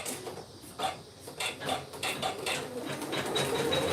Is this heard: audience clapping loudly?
no